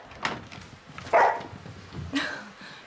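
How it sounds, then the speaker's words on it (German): A dog lets out a few scattered short barks or yips indoors at night, close by but not loud, with pauses between them. "das bin nicht ich, das ist der Hund"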